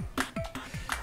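A Facebook notification on a computer gives short, bright pings, several quick chimes in a row with small gaps between them, fairly clear and close.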